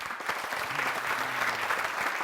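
Studio audience on a television variety show breaking into loud, dense applause that carries evenly from start to finish.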